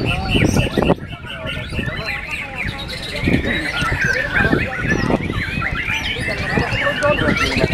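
A white-rumped shama sings rapid, varied whistles and chirps amid other bird calls at a songbird contest, with a voice talking over the busy outdoor background.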